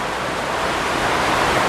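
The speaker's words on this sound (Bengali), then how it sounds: "সেই বৃষ্টি হচ্ছে" Heavy rain pours steadily outdoors in a village during a windy storm, a loud, continuous broadband rush with no break and no voices.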